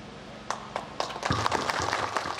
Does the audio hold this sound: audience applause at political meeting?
yes